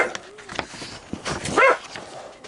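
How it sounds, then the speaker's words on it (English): A dog barks indoors, a few sharp yelps and a whiny bark rising over a muffled room background, with faint handling noises around them. "if that dog don't start shutting up, I'm gonna kill it"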